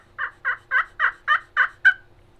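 A slate turkey call, held with its bottom open, plays a run of seven clear, rasping yelps at an even pace, loud and close, with the last note sharper and higher.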